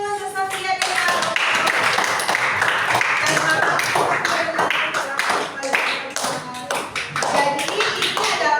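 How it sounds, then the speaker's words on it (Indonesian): Classroom clapping for two students, a burst of many hands applauding with scattered sharp claps and bright ringing tones, fairly close and continuous over several seconds. "Wah, beri tepuk tangan dulu untuk Sofia dan Alfa."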